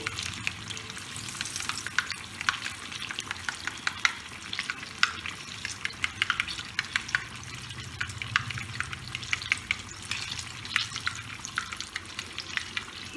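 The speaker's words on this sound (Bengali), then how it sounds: "আমার বেগুন ভাজা হয়ে গেছে" Pieces of eggplant sizzle and crackle in hot oil, with a steady frying hiss and occasional stirring scrapes, fairly quiet and close.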